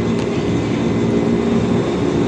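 A KRL commuter electric train bound for Manggarai rumbles steadily at Tanah Abang station in Jakarta, a constant loud, even drone of rail motors and wheels with no voices.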